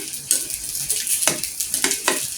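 Luchi deep-frying in hot oil, a steady bright sizzle broken by a few sharp crackling bursts as the puffed bread is turned and stirred, close and fairly loud with no voices.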